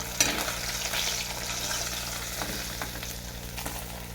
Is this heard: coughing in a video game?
no